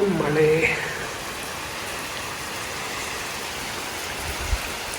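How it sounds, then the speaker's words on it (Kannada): Steady rain falling on a rainy ride, a constant soft hiss throughout, with a voice speaking briefly at the start. "ಮಳೆ ಮಳೆ ಮಳೆ"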